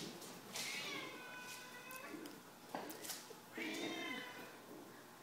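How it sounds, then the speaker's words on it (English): A house cat meows nearby inside a manufactured home, giving several drawn-out, wavering calls in succession against a quiet indoor background. "And the kitty is helping."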